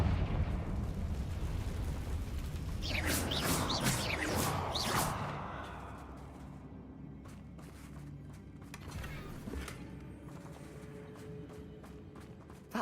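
A Confringo blasting spell detonating in Hogwarts Legacy, a loud crackling burst of blasts rising and rolling for a few seconds before fading into a quieter rumbling backdrop with scattered clatters.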